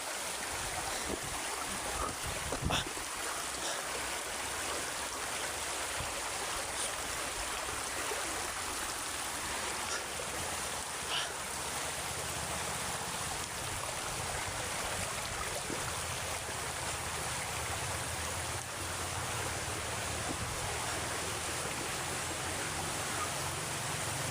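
A river rushes steadily past in a continuous broadband wash of flowing water, with no break for the full stretch and only faint incidental knocks nearby.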